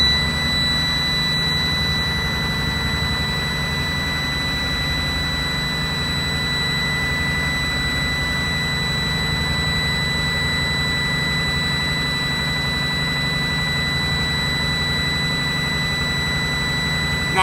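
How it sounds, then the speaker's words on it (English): A steady, continuous low-air-pressure warning tone from a truck's air brake system sounds alongside the engine's constant droning hum during a CDL class B pre-trip inspection, loud and unbroken with no talking. "That noise that you hear is your low pressure."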